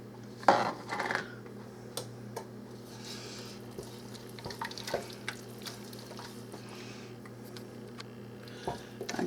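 A spoon stirs chicken potato soup in a pot on the stove, soft wet squishes and faint clinks of metal against the pot over a steady low kitchen hum, fairly quiet and close.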